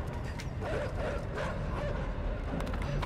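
Dogs bark and yip in the video game Inside, a dense run of repeated barks over a loud, busy game backdrop throughout.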